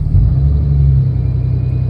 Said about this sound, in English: but the truck's currently idling at 1200 RPM.